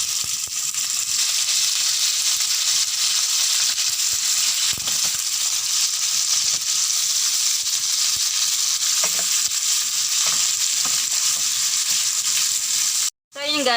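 Garlic, onion and meat sauté in a hot pan, giving a loud, continuous sizzle and crackle with occasional stirring scrapes, then a brief drop near the end.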